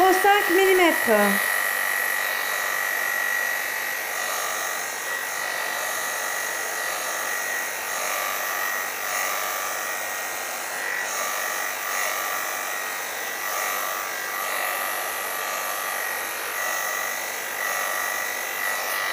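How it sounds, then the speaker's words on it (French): A steady, high-pitched electric buzz of professional clippers running continuously, close up, trimming a long-haired guinea pig at 0.5 mm, with a short rattle at the start. "C'est une tondeuse professionnelle."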